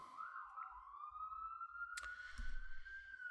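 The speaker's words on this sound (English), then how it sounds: "I hope you will forgive me for the police siren in the background." A police siren wails faintly in the distance outdoors, a single slowly rising tone held steadily, with a brief click partway through.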